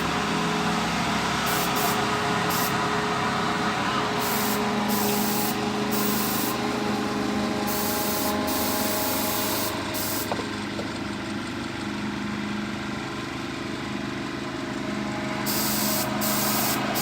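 A spray gun hisses steadily as it sprays paint onto an O gauge model J15 locomotive, a close, continuous airy rush that cuts in and out briefly several times, over a low mechanical hum.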